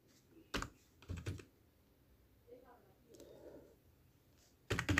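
A few sparse keystrokes tap on a computer keyboard while a phone number is entered, separated by quiet gaps, with soft murmuring voice sounds in between.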